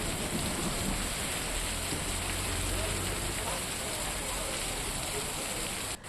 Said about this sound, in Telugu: అక్కడ ఇలా ఒక్కసారిగా వాతావరణం చల్లబడి వర్షం పడుతోంది